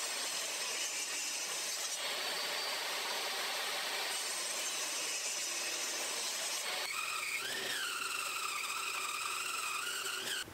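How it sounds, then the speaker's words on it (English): A table saw cuts through a thick piece of reclaimed birch wood with a loud, sustained whine and grinding rasp. The pitch shifts partway through as the blade works the board, and no one speaks. "Now I'm taking the thick piece and I'm cutting it on the table saw to match the other piece."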